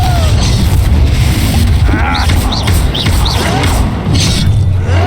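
A Confringo spell explosion in Hogwarts Legacy booms loudly amid combat, with crashing impacts, mechanical clatter and brief swooping magical whistles, heavy and continuous with no clear speech over it.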